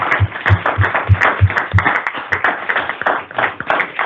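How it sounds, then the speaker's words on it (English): Board members at a state transportation board meeting clap for the commissioner, a brief close burst of hand claps with some steady rhythmic beats under the general applause. "I think that deserves a real strong applause for our commissioner"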